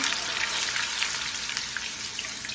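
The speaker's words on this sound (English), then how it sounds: "I dropped a small slice in to see if it would fry up, and that it did." A small potato slice fries in hot oil for homemade crispy chips, producing a continuous, dense bubbling hiss that stays loud and even from start to finish.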